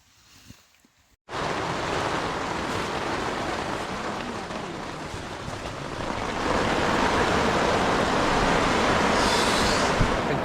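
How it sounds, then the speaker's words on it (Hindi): Water surging up through a crack in the ground on a monsoon trek near Ratangad, Maharashtra, a loud steady rush that begins abruptly after a second of quiet and swells slightly louder toward the end, with no voices. "ये देखो पानी आ रहा है, देखो पानी आ रहा है ऊपर"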